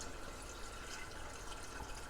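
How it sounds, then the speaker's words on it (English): Water pours steadily into a pot over a pork butt on a stovetop, a faint continuous splashing rush with no other sounds. "Now I'm just going to come and I'm going to cover him with water."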